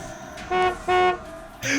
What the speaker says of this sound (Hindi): मुझे तो सिर्फ गाड़ी के हॉर्न की आवाज सुनाई दे रही है।